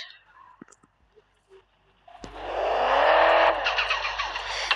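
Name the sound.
car being moved and repositioned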